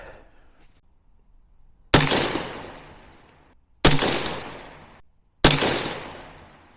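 Three loud 6.5 Creedmoor rifle shots fired outdoors, spaced about two seconds apart, each a sharp crack trailing off into a decaying echo.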